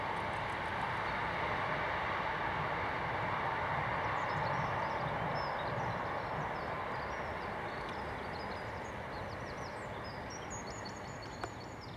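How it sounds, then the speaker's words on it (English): A train emerges from a tunnel on a railway line in the Surrey countryside between Oxted and Lingfield. It makes a sustained, distant, rumbling rush lasting many seconds, with birdsong chirping faintly above it. "a train is coming out the tunnel"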